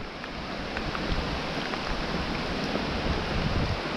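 Storm Boris lashes Nottinghamshire with heavy rain and gusting wind, a loud, continuous broadband roar that swells slightly and holds steady with no voices.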